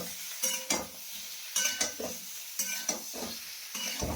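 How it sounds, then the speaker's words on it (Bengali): Boiled potatoes frying in hot oil in a pan, with a steady sizzle broken by several sharp scraping stirs and clinks of a spatula against the pan, fairly close and without talk. "এবারে আলুগুলো ভাজি করে নেব"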